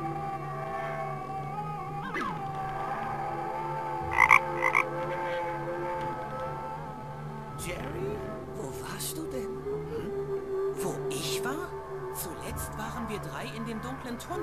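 A frog croaks in the video game The Night of the Rabbit, repeated low croaks over ambient game music and sound effects.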